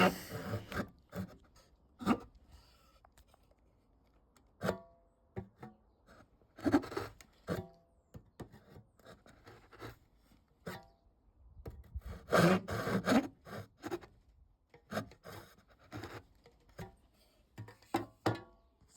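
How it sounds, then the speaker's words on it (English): A restored crosscut back saw is test-cut on wood, producing faint, irregular rasping strokes with pauses between them, the blade dragging rather than biting cleanly. "Testing the saw for the first time and it doesn't cut at all."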